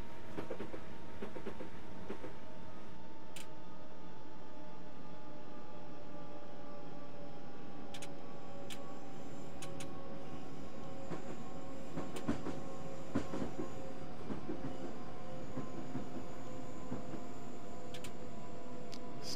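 Passenger train on the London to Brighton route in Train Simulator 2014, rolling along with a steady low rumble, faint clicks and squeals while slowing under braking, with no talk.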